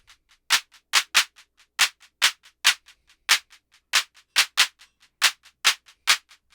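Sharp wooden clave clicks in a repeating syncopated pattern programmed in Ableton, with an eighth-note pickup leading into the fourth beat and softer ghost clicks between the accents, crisp, close and alone.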